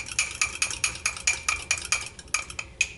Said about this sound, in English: So let's stir all this up together.